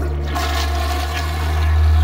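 A toilet flushing close by, a loud continuous rush of water with a low roar that builds toward the end.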